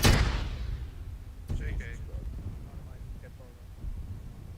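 Grenade explosion in the military video game Arma 3, a loud close boom that rumbles and fades, then a second sharp blast, with voices speaking over the aftermath.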